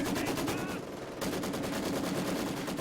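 Machine-gun fire in a Company of Heroes 2 battle, loud and continuous rapid bursts that rattle on, with a short lull near the one-second mark before hammering on again.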